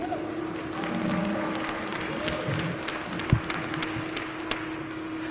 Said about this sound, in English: Let's give this whole class of intermediates one more round of applause for making it to the championship drive today